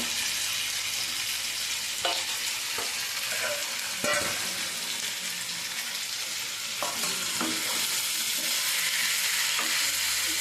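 Chicken stir-fried with chana dal, raw mango, onion and masala in a pan sizzles loudly and continuously, with periodic spatula scrapes and knocks as the mixture is tossed.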